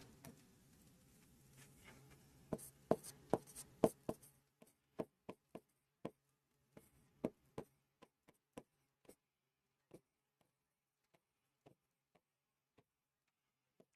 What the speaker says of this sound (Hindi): मैं यहां लिख देता हूं तेलंगाना की